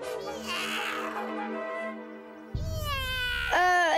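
A cartoon kitten gives several drawn-out, high-pitched meows, close and clear, with one long mew followed by a rising cry.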